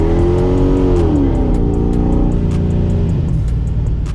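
Supercharged Dodge Dakota RT engine accelerating hard, a loud, close roar that rises in pitch, then falls off as the revs drop, with a faint tire chirp.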